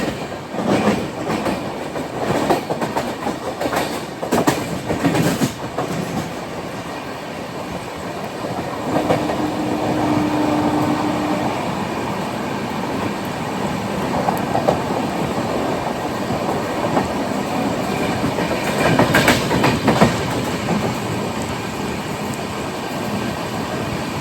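Ernakulam–Okha Express train rolling on rails after leaving Ernakulam Junction, heard from inside an empty coach: a steady close rumble with rhythmic clickety-clack of wheels over rail joints, swelling louder at times, with no talk.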